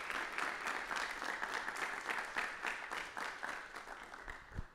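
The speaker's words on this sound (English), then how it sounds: "let's do just a round of applause." An audience gives a round of applause at an arts and technology showcase event, with a steady wash of clapping that stays fairly even and slowly fades toward the end, heard at moderate distance without speech.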